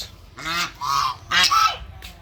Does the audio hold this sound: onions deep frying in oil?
no